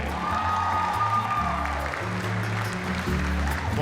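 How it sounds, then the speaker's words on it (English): A pageant audience gives a dense, steady round of applause with some crowd noise, and tonal music plays underneath throughout. "Another big round of applause for Latafale."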